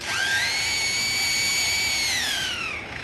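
A 30-year-old lyrebird mimics a power drill: one loud, steady whining tone that rises slightly, holds for nearly three seconds, then winds down, heard alone with no talk.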